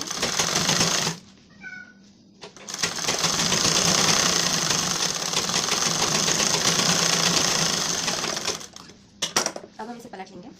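Sewing machine stitching a line along a blouse lining, running in a long steady whirring burst after a short earlier run, with a person talking in the pauses.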